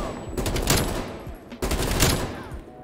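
Automatic XM4 rifle fire in Call of Duty Cold War, two loud rapid bursts of gunshots close up, separated by a short pause.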